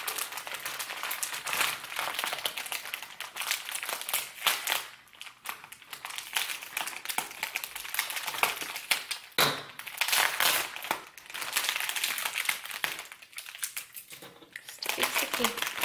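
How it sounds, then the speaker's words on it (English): A taped-up package holding axolotl eggs is cut open, giving continuous close crinkling and scraping of tape and cardboard. "Oh man, that's really taped up. Let's see if we can just cut through it."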